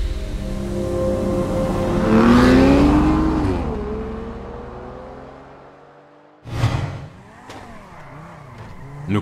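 VW Golf 5 with a rear-mounted 650-horsepower W12 engine in GTA, revving hard as it accelerates in a rising whine, easing off, then a sudden fresh burst of revving after a brief drop.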